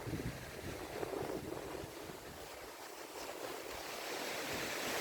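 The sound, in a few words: water flowing down from a barrage into a reservoir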